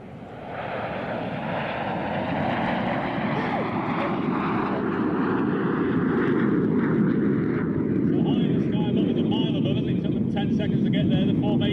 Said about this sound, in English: The aircraft are now forming to Big Battle, the largest formation we fly.